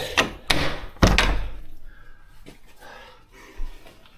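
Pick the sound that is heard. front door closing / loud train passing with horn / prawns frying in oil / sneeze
front door closing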